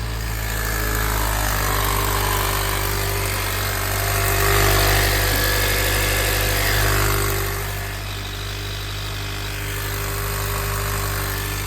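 A 2016 Honda Civic idles inside a shop with smoke coming from the exhaust, a steady loud engine hum and rattle holding throughout with no talk over it.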